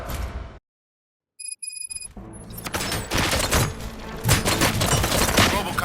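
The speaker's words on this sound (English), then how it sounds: "Gunshots? What's going on?" Gunfire in the video game RoboCop: Rogue City erupts after a brief dropout and a few electronic beeps, a dense, loud, continuous fusillade of shots and booms filling the rest of the moment.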